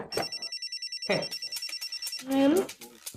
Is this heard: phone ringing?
yes